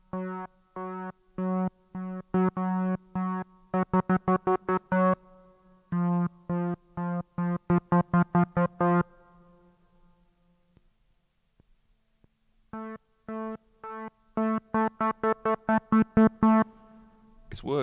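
Repeated notes on a Moog Matriarch synthesizer keyboard, first struck at normal force in quick pulsing bursts, then played softly in similar runs, with a short pause between; the tone is loud, buzzy and close, with no talking.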